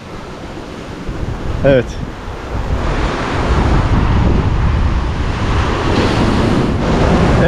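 Heavy sea waves surge and crash against high rocky cliffs on the Bali coast, a loud continuous roar with gusty wind buffeting the microphone and one brief spoken word.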